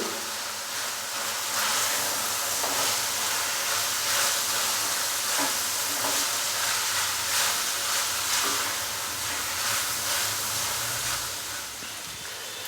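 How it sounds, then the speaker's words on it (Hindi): Chicken with black pepper, salt and spices fries on a high flame, a continuous hiss and sizzle that holds steady at moderate loudness throughout. "अभी मैंने इसको हाई फ्लेम पे 1 से 2 मिनट के लिए बहुत ही अच्छे से भून लिया है"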